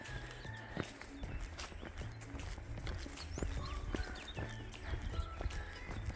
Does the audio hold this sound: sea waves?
no